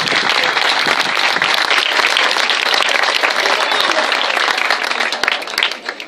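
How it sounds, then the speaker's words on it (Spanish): Steady crowd applause at a Gijón athletics club's traditional espicha gathering, dense clapping filling the space for about five seconds before thinning out near the end. "un aplauso para Mulsa y para toda la colaboración"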